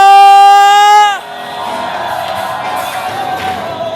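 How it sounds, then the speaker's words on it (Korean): A sustained tone sounds loudly, then a church congregation at a praise worship gathering erupts into cheering and shouting, a broad, distant-sounding crowd roar that carries on to the end. "마음껏 주님께 함성!"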